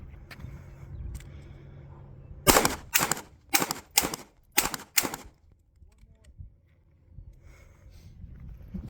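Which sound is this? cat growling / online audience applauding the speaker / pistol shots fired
pistol shots fired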